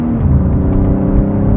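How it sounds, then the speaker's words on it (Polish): A loud, deep engine of a BMW M3 Competition xDrive, not a V8, revs and pulls hard, its throaty rumble rising steadily in a close, continuous roar. "Ten silnik brzmi tak mięsiście."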